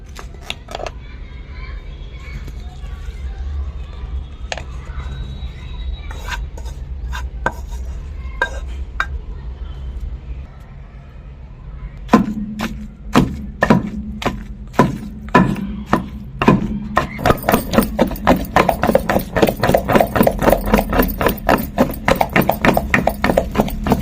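Tomato, tamarind and salt are ground into chutney in a stone mortar. Quiet scraping and occasional knocks give way to steady, rhythmic pounding thuds that grow louder and faster toward the end.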